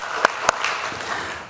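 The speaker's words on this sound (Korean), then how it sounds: "우리 환영의 박수 하겠습니다." A church congregation claps in welcome during a Sunday service: two sharp claps stand out, then a soft, diffuse patter of applause continues briefly at moderate level.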